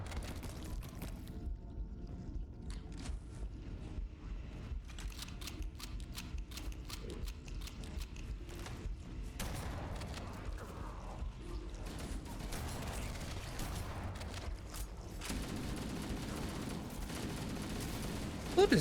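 Chain reaction grenade explosions in Halo Combat Evolved: dense, overlapping bursts and rattling blasts run continuously amid clattering game effects, loud and busy throughout with no pause.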